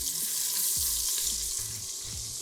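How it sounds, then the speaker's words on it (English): Beef stew meat browning in a very hot Instant Pot, a steady close sizzle with occasional scraping and stirring sounds of a utensil against the pot. "it should brown pretty fast because our Instant Pot is really hot right now"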